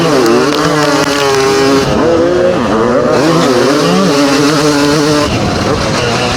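Vintage motocross bikes, a Honda 500 CR and a Yamaha 250 YZ, race together on a dry track, their loud, rasping engines rising and falling in pitch as the riders throttle on and off, close and continuous.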